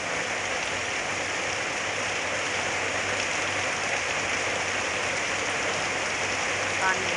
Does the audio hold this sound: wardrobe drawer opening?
no